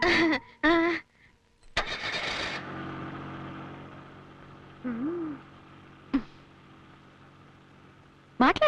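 A car engine cranks and catches with a sharp burst, then settles into a low idle hum, with brief voices and music-like tones before and around it.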